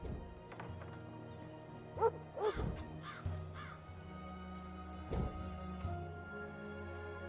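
Crow in the Dreamfall Chapters video game, several short caws scattered over a quiet low ambient hum, fairly faint and alone.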